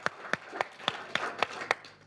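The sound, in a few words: audience applause for Matt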